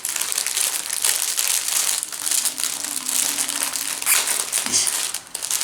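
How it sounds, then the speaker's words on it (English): A cellophane bag being opened, giving loud, close, continuous crinkling and crackling that rises in bursts, with a brief softer dip just before it ends. "these baggies should have like a self-closing bag to put them in, because these cellophane ones crinkle"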